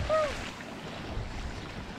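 Waves washing onto the soft sandy shore of Laguna de Tota, a lake in Boyacá: a steady, moderate rush of water mixed with wind noise, with a faint brief whistle near the start.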